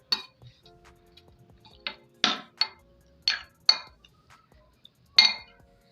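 Metal utensil clinking against a bowl while chicken marinade is mixed with egg white, a series of sharp clinks and taps at an irregular rhythm, close and fairly clear with no talking.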